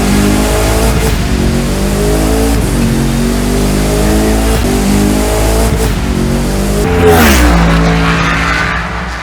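Matchbox 2018 Bugatti Divo diecast toy car racing down a track, a steady loud rolling whir with engine-like rising tones throughout, swelling briefly near the end.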